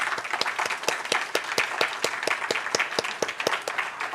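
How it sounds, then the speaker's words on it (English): An audience at an award night gives a quick round of applause, with a few distinct, rhythmic sharp claps standing out over a dense bed of clapping, close and moderately loud. "Can we give them a quick round of applause?"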